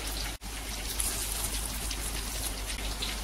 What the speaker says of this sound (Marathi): आता मी ही स्वच्छ 2 पाण्याने धुवून घेते